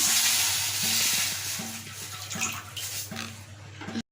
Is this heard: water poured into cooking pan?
yes